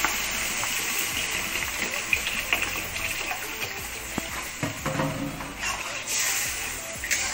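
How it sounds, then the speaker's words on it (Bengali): Water poured into a pan of fried vegetables for a Bengali shukto with small fish, a steady watery gush and sizzle with stirring clatter, close and moderately loud. "এবার এটা আমি দিয়ে দেবো জল।"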